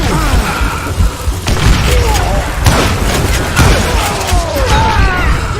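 Gunfire in the Western shooter Call of Juarez: Gunslinger: loud, dense shots and booming impacts crowd together over a constant roaring game soundscape.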